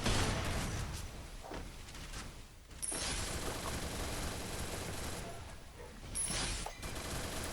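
Rapid gunfire in a video game, with dense bursts of shots landing headshots, loud and continuous with brief pauses between volleys and no talking.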